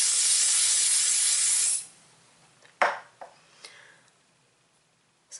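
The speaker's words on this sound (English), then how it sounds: "Give it a bit of a spray." A short aerosol hairspray burst onto hair hisses loudly for under two seconds, followed by a few faint clicks and taps in a quiet room.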